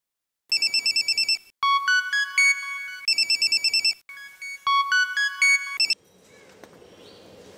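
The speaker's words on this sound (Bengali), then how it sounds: "সালাউদ্দিনকে ফোন দে।" An electronic phone ringtone plays in repeated melodic bursts, alternating patterns with short gaps, then cuts off leaving faint background noise.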